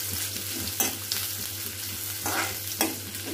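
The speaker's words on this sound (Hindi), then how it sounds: "प्याज को अच्छे से गोल्डन ब्राउन होने तक भून लेंगे।" Onions fry in a pan with cumin, a steady close sizzle while a utensil stirs and scrapes in a few distinct strokes, with no talking.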